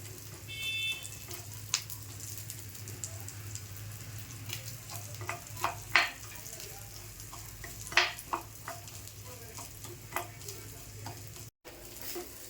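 Ingredients sautéing in a pan for Malvani-style village chicken curry, a low continuous sizzle with scattered clicks and scrapes of a spoon against the pan, steady and close, with no talking.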